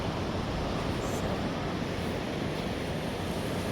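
Steady ocean waves and surf wash continuously on a beach at calm water, a dense, loud hiss with wind noise and no distinct breaks.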